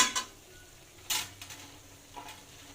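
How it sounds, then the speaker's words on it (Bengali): Okra stir-fried with chillies and spices in a pan gives a few quiet, brief bursts of sizzle and spatula scraping, spaced irregularly over a soft background. "মশলার সাথে ঢেঁড়সটা একসাথে ভালো করে কষানো হয়ে যাবে।"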